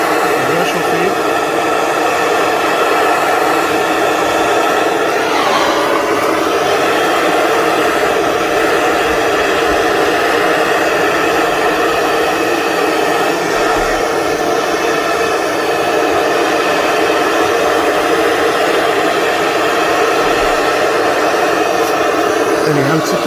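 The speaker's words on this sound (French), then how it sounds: "il faut vraiment la mettre au bout de la flamme bleue. C'est là que c'est le plus chaud." A blowtorch's blue flame roars steadily while heating a metal part on an imported American car, a loud continuous hiss lasting the whole time with no talking.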